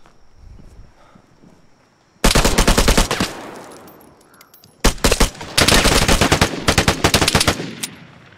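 PM Makarov pistol gunfire in the video game Vigor: two loud, close bursts of rapid shots, each followed by a fading echo, come after a quiet stretch of footsteps and rustling.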